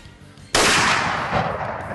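A single loud muzzleloader rifle shot fired at an elk while hunting in New Mexico, a sharp close blast that rolls into a long fading echo.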